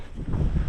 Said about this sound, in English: It is a windy day, so I apologize for any of the microphone footage.